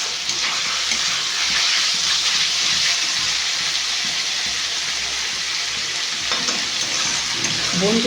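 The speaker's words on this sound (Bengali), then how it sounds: "একটুখানি মাংসটা সাদা হওয়া পর্যন্ত এটাকে ভাজবো।" Minced meat frying in a pan, a loud, even sizzle that holds steady close by, with faint stirring scrapes near the end.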